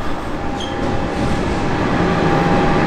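A train rolls along with a steady, loud rumble and rail noise; a brief high squeal rises near the start, then the sound holds evenly with no talk.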